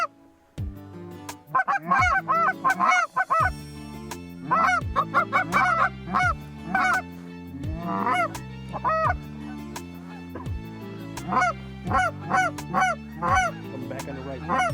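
Canada geese honk repeatedly in loud, clear bursts, several birds calling close by in overlapping, uneven rhythms with brief pauses between volleys.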